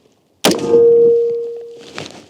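A rifle shot from 20 metres strikes a steel plate: a sharp metallic impact followed by a clear ringing tone that sustains and slowly fades, with a faint second knock near the end.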